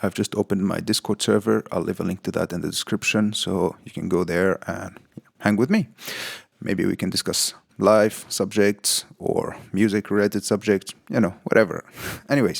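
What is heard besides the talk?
None of the usual background noises is heard.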